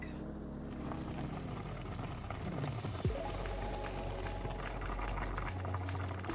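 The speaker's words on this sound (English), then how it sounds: "Alright, so I'm gonna let these come to a boil, and we'll be back." A pot of black-eyed peas with onion, celery and garlic comes to a boil, bubbling and gurgling steadily up close with a faint clink partway through; no one speaks.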